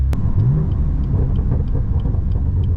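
A BMW M4 Competition fitted with an AWE SwitchPath exhaust idles with a loud, deep, steady rumble close by, with no voices.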